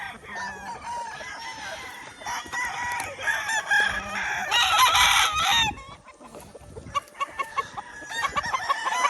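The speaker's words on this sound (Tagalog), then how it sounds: "Ang ganda ng mga manok dito." Roosters at a gamecock farm crow and cluck in overlapping calls throughout, loud and close, with several birds layered together and sharp clucks toward the end.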